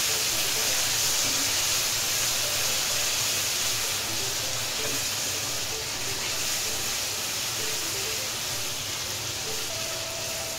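Sliced onions sauté in hot oil in a pan for a dhaba-style dum aloo, a steady loud broadband sizzle and hiss running unbroken throughout, with faint scattered crackles.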